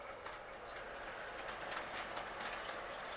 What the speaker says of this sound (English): I've been running trains here all morning